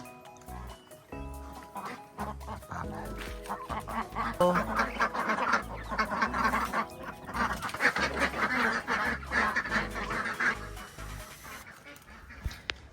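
A flock of ducks quacks and honks in a pen on a family farm, a busy overlapping chorus of calls that swells through the middle and thins out toward the end, with no talking.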